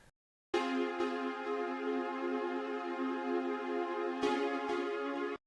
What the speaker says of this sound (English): So I used also, again from my new metal producer pack, the pad called Plucky Pad.